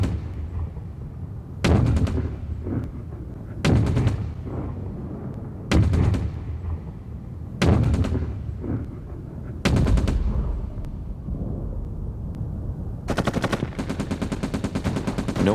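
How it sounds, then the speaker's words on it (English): Heavy World War One battlefield fire: loud, evenly spaced booms of artillery with bursts of machine gun rattle between them, repeating about every two seconds and ending in a long sustained volley. "As soon as they started to advance, they came under heavy fire."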